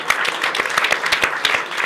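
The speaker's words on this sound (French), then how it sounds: "on va les applaudir" Studio audience applause on a television talk show set, dense, evenly paced clapping with a few sharper individual claps standing out, close and continuous without speech.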